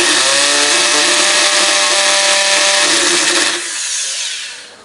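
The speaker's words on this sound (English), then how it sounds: "Drilling some holes is my next step." A power drill fitted with a thick bit bores holes through a plastic plant pot, running as a loud, steady whine for about three seconds before slowing and fading out.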